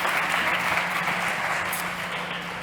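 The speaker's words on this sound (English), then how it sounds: "big applause" An audience claps together at a startup competition, a dense, steady wash of applause that slowly fades over a few seconds with no voices.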